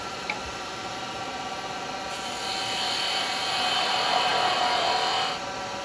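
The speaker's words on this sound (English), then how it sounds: "Now I'm going to come in with the detail chisel there for a minute and get rid of this." A detail carbide chisel cutting a resin bell spinning on a lathe, a steady whirring motor hum that swells into a brighter, louder scraping hiss for a few seconds, then falls back, with no talking.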